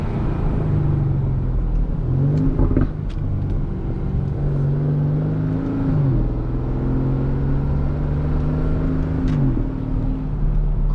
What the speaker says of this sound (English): Great sound too. Again, it sounds like an AMG.